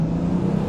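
A 700-horsepower single-turbo BMW M4 engine drones at close range in a short, continuous burst, a deep steady rumble with a strong low hum and no voices over it.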